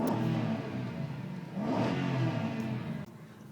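A Ford FG Falcon XR8 V8 revs up loudly and close as the car sets off, with two rising surges of engine roar before it cuts off abruptly near the end.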